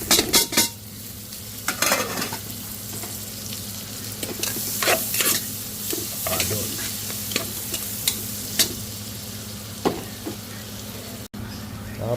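Garlic and onion sauté in hot oil in a pan, a steady sizzle broken by sharp scrapes and clinks of a utensil stirring against the metal, with a low background hum throughout.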